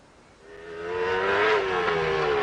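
A motorbike engine rises in pitch as it revs and pulls away, a sustained whine that builds loud and holds steady, heard on its own with no talking.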